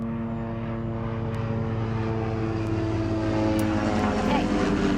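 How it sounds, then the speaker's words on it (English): A helicopter flies overhead with a steady droning engine hum and a constant rotor buzz that swells slightly as it passes near. "there's like a helicopter going overhead."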